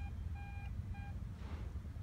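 Metal detector sounding on a buried silver target, a pair of short high electronic tones heard faintly over low outdoor rumble.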